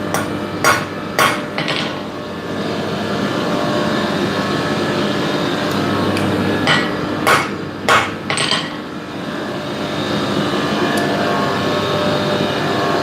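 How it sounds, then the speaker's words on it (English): A hammer strikes a rivet on blacksmith tongs in sharp metallic blows, several in quick pairs and clusters, ringing over a steady forge blower hum; no talking. "Going to tighten this rivet. These tongs are a little floppy."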